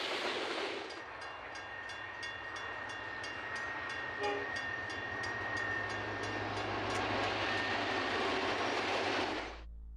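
A train crossing Australia rolls past at close range, its steady roar and clattering wheel rhythm filling the scene while a long horn note sounds over it throughout.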